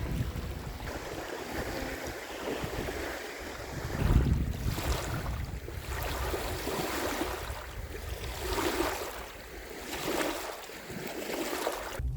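Waves wash steadily onto a lake beach in rolling surges, mixed with breezy wind noise and no voices.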